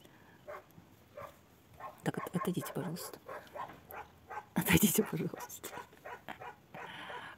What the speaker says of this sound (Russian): залаяли собаки